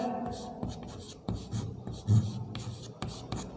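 Chalk or marker scratches and taps across a board during a lesson, short irregular strokes with small knocks, fairly quiet and close, with a teacher's voice faintly in between.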